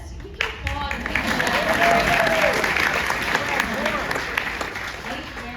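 A crowd bursts into applause at a political talk, steady dense clapping with cheering and chatter mixed in throughout.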